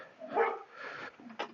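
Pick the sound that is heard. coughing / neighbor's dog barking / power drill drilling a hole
neighbor's dog barking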